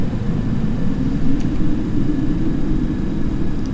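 Airplane in a flight simulator climbing slowly with gear up and flaps in, a steady loud engine drone and rumble continuing without pause.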